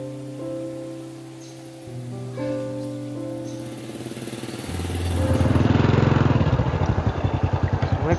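An old Honda Supra motorcycle engine idles with a steady low putter, then revs up into a louder, rougher rattling roar as it pulls away, close by.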